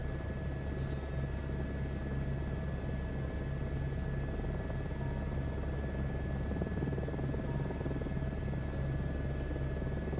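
The rotor of a helicopter in Microsoft Flight Simulator 2024 makes a continuous even thrum, with a low rhythmic beat beneath a high turbine whine at moderate volume.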